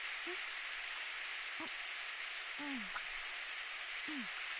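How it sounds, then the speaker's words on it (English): Steady, dense rain hiss from the visual novel Steins;Gate fills the scene at an even level throughout, with a few short voiced murmurs poking through the downpour. "Hey, it's raining"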